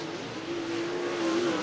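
Late model race cars on the Cottage Grove Speedway oval, a sustained loud engine drone with a steady pitch as cars power through turns three and four during a heat race, no talking over it.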